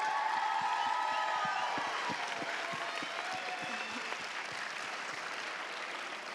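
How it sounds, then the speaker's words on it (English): Applause from a crowd for a high school homecoming court, dense clapping sustained at an even level throughout, fading slightly toward the end. "Let's have a final round of applause for this year's homecoming court."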